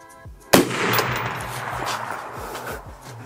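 A single sharp rifle shot from a rifle with a thermal clip-on scope cracks loudly and close, followed by a fading echo and quiet mechanical handling.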